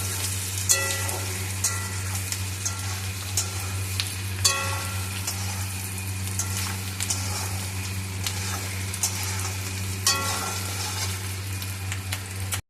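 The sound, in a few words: stirring chili chicken frying in a pan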